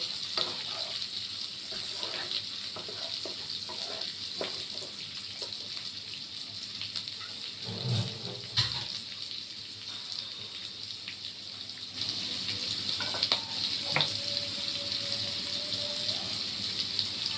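Rice grains fry in a pan with a steady, fairly loud hiss that runs throughout, broken by a few scraping stirs and brief knocks. No one talks.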